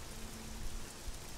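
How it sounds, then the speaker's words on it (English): Steady rainfall in the video game Oblivion, a soft, even hiss with a faint patter of drops and no voices. "And of course it's raining."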